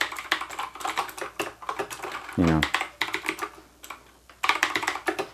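A GAMDIAS Hermes 7 Color mechanical keyboard clatters under rapid typing, with dense, sharp key clicks in uneven bursts, close and loud, alongside brief talking.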